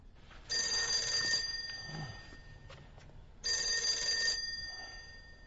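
A telephone bell rings in two long bursts separated by a short pause, fairly faint and heard alone in a quiet room.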